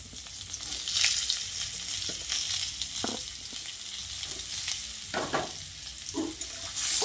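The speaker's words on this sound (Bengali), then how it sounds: "ডাঁটাগুলো দিয়ে আলুর সঙ্গে আরও কিছুক্ষণ ভেজে নিচ্ছি।" Drumstick (moringa) pieces and potatoes frying in oil in a pan, a steady close sizzle broken by occasional scraping stirs.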